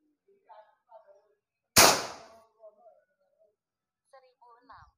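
A Ghost Warrior PCP air rifle fires a single sharp shot that cracks loudly and fades quickly, with brief speech before and after it.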